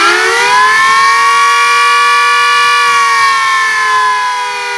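Civil defense siren sounded by volunteers at Tiwaripur police station, a loud, steady wailing tone that holds its pitch for several seconds and slowly fades toward the end, with no voices over it.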